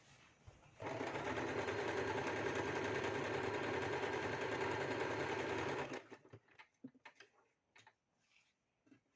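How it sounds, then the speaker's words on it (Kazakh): A sewing machine stitches the seam of a double duvet cover in one continuous loud run of about five seconds, then stops, followed by soft handling clicks and fabric rustles. "Сондықтан бірден қайырып мен тігіп алам."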